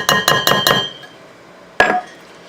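A whisk clanks against a mixing bowl of pancake batter, four quick metallic strikes in a row, a pause, then one more sharp clink, close and alone.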